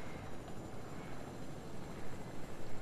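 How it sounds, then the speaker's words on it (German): A helicopter in the video game Fortnite gives a steady, whooshing rotor and engine drone at moderate loudness, with a few rhythmic swells toward the end and no voices. "Da ist ein Heli."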